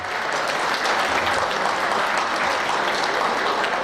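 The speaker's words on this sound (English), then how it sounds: "let's give him another round of applause." Sustained, dense applause from a gala audience honoring a state representative, even and loud throughout with no break.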